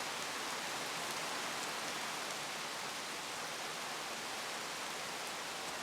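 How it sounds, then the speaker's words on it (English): Steady rain falls outdoors, a dense, even hiss with a few faint drop taps, holding at a constant level with no voices present. "Now that it is raining here,"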